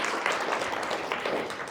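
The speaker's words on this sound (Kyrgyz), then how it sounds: "Бир кол чаап коебуз." Audience clapping at a seminar in Bishkek, a steady, even wash of many hands applauding together throughout the brief moment, moderately loud and without pause.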